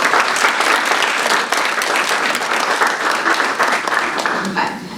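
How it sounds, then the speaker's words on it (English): Loud, dense audience applause for elementary school students at a county student tourism awards event, many hands clapping continuously and evenly throughout, easing slightly at the close with a voice briefly audible. "So another round of applause for all the elementary school ones."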